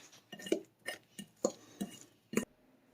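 Utensil clinking and scraping against a dish while stirring spinach and artichoke dip topped with cheese, six distinct close taps and scrapes spaced unevenly through a quiet moment.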